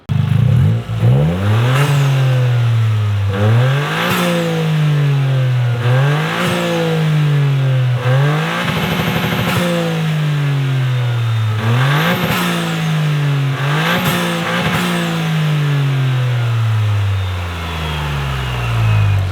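A Toyota GR Corolla engine fires up and revs again and again, each throttle blip rising and falling in pitch, loud and close, with no voices.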